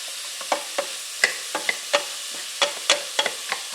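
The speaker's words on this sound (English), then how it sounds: "we're going to saute these for about 10 minutes, and they should get tender" Vegetables sauté in a pan for cheeseburger soup: a soft background sizzle broken by about a dozen scraping stirs of a utensil against the pan, evenly spaced and close.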